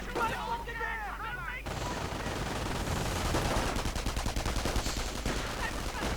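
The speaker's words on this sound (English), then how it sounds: "MG opens up." Machine gun fire crackles in a World War II strategy game, rapid bursts rattling steadily over a dense battle din after an opening stretch of commentator talk.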